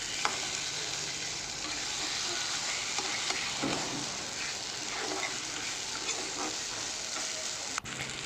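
Kochu shak ghonto, taro greens cooked with a hilsa fish head, frying in a pan, a steady close sizzle with occasional stirring scrapes and a sharp clink near the end.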